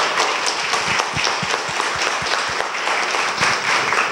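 An audience applauds at a program launch event, with dense, steady clapping for about four seconds, some individual claps standing out sharply close by.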